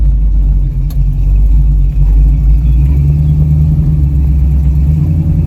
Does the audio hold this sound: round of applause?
no